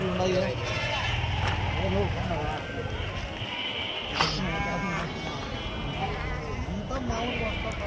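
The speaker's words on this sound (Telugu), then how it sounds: "ఇక్కడ ఉన్నాయి చూడు గొర్రెలు" Sheep bleat repeatedly at a weekly Saturday sheep market in Angallu, the calls rising over a dense, steady crowd hubbub with people talking nearby.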